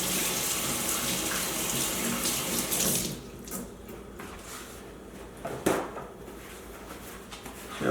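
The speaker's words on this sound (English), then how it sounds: "And you go rinse your wash your hands." Kitchen tap running loudly into a sink as hands are rinsed, then shut off about three seconds in, leaving quieter dripping and handling sounds.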